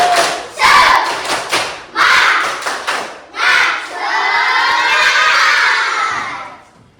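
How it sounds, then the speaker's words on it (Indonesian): Fourth-grade schoolchildren in a classroom do a rhythmic clapping chant: bursts of unison claps alternate with loud group shouts, ending in a long, sustained collective cheer that fades out. "mari kita tepuk semangat dulu"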